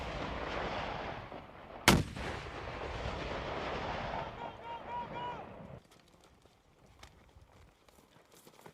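SMAW rocket launchers firing from a hillside in war footage: one sharp, loud blast about two seconds in, surrounded by a dense, noisy battlefield rumble that drops to quieter background after several seconds.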